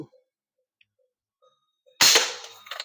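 A slingshot shot strikes a bottle target with one sudden loud sharp crack, followed by a brief rattling tail after near silence.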